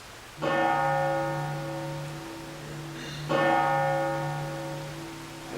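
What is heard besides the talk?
bell tolling in a stage play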